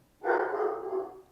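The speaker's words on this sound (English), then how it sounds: "pardon my dog" A single dog bark sounds indoors, one drawn-out, fairly close bow-wow that fades over about a second, with no talking over it.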